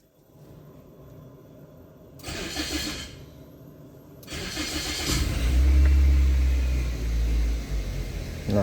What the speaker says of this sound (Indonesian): Kemudian kita starter.